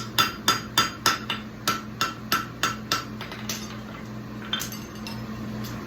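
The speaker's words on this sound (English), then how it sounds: "get in there with the round side of my hammer and kind of draw it out just like a rounding hammer could" Farrier's rounding hammer strikes a steel horseshoe on the anvil horn while shaping a rolled toe, a run of about a dozen sharp, ringing blows in a steady rhythm that slows and fades, with a final lone strike.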